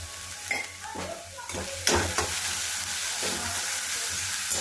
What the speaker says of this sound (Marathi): थोडंसं ओरिगानो टाकूया आणि व्यवस्थित त्याला परतून घेऊयात.